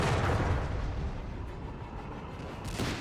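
Flak 36 anti-aircraft gun firing in Company of Heroes 3, a dense rumble of booming shots and battlefield explosions that stays loud throughout, swelling again near the end.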